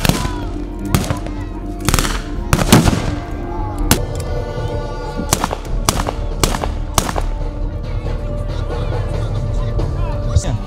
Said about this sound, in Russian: И это снова наша артиллерия, уже мощная артиллерия.